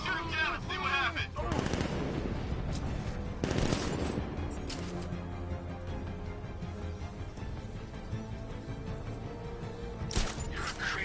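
Gunfire in a Batman video game: bursts of rapid shots and sharp single cracks crash loudly at intervals over a bed of game music and ambience, with no talking.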